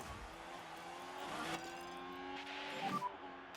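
Formula 1 cars surging away from the grid at a race start in F1 Manager 2024, a layered engine roar with rising revs and tire noise, steady and moderately loud with no talk.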